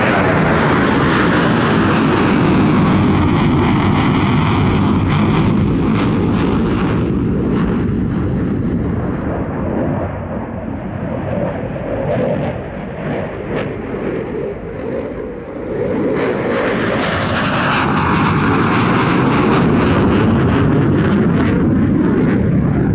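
Dassault Rafale fighter jet performing at RAF Cosford Air Show, its roaring engine swelling and fading as it passes, a continuous loud blast of jet noise rising again near the end.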